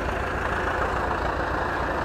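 Short, steady low-pitched chugging of an Ursus C 360 tractor engine under load while pulling harrows across a wet field, continuous and fairly close with no voices.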